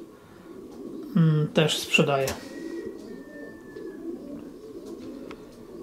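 Breeding pigeons coo in a loft, a few close, loud throaty calls in quick succession over a low background hum, with someone speaking briefly alongside them.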